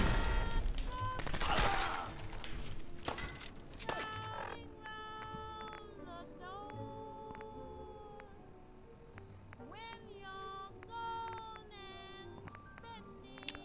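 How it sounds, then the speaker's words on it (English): Gunfire and a grenade blast from a Fallout 4 raider fight erupt in loud, rapid bursts at the start, then give way to quieter scattered tonal game sounds. "He just throws a grenade."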